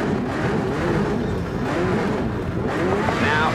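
A race car in Project CARS 3 accelerating hard, its engine a steady loud roar that rises through the gears over several seconds, close and continuous.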